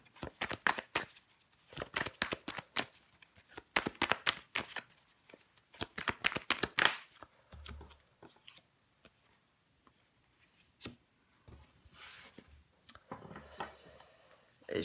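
Tarot cards are shuffled, flicked and laid down on a table in a run of quick crisp ticks and slaps for the first seven seconds, then a few softer isolated card placements follow.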